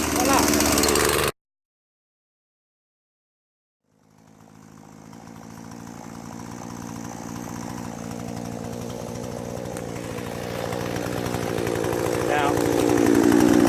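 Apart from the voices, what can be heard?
chainsaw starting and running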